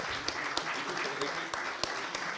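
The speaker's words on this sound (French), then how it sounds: "Je voudrais que vous applaudissiez quand même les organisateurs, Catherine Grimillet et Olivier Mopti" A conference audience applauds the organisers, scattered claps rising steadily through a medium-sized hall, with a voice speaking in French over the clapping.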